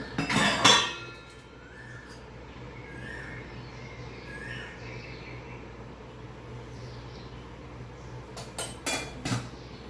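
A spoon clinks against a pot as dal is stirred with salt and turmeric, with a loud burst of metallic scraping at the start and a few more clinks near the end over a low steady hum.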